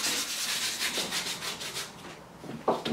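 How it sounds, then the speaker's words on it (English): Small pieces rubbed smooth with sandpaper, a steady rhythmic scratchy sanding of back-and-forth strokes, close and continuous, with a brief bump near the end and no talking. "put the sand on the table and rub these down"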